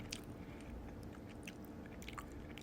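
Crunchy biting and steady chewing of a small Cadbury advent calendar chocolate bar with a toffee-like filling, close and quiet, alone without talk, with a sharper crunch at the end.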